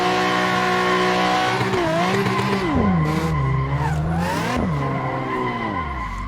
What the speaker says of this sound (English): just use the throttle to drift in this game.